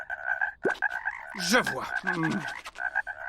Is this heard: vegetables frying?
no